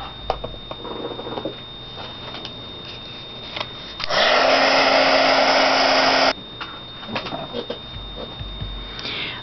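A hair dryer blows for about two seconds, drying paint on a painting, a loud steady whoosh with a rising whine that cuts off abruptly; a voice talks quietly before and after.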